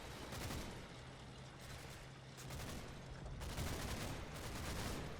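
Gunfire rattles in the Combat Mission: Battle for Normandy video game, soft and distant bursts of small-arms fire rolling together over a steady rumble. No voices are heard.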